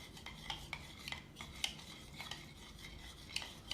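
A spoon mixing pomegranate with aloe vera gel in a bowl, with soft rubbing strokes and light clinks against the bowl in an uneven rhythm, close and quiet.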